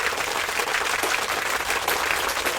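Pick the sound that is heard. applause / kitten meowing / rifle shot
applause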